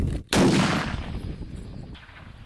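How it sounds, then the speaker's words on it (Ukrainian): A single sharp gunshot cracks out loudly, followed by a rolling echo that fades over about two seconds. "Увага, постріл!"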